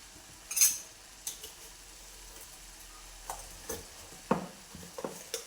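Jaggery tipped into a simmering kadhai, then stirred with a spoon, giving soft scraping clinks and a few sharp taps against the pan over a faint bubbling background, with no talking.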